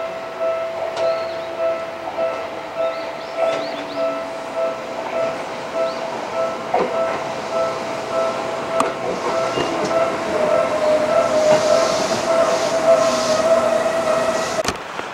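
A Seibu Ikebukuro Line train runs through the platform-2 passing track at Koma station, a steady rumbling roll with rail clatter that builds louder toward the end, no talking.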